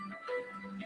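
A phone ringtone for an incoming call chimes in a melodic electronic pattern of short tones, fairly close and clear, with no talk over it.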